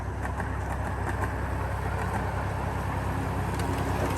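A 7.5-inch gauge steam locomotive runs on a miniature railroad, giving a steady low rumble and hum with faint rhythmic chuffing, fairly loud and continuous throughout with no talk.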